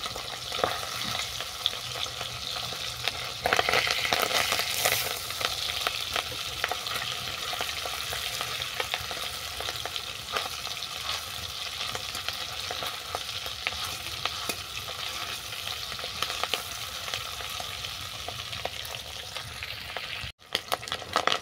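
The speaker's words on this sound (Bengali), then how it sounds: "এরপর তেল পোঁটাগুলোকে আমি ভেজে নিচ্ছি।" Rani fish oil-offal (tel pota) frying in hot oil in a kadai, a steady dense sizzle with occasional stirring noises that continues evenly throughout, with no talking.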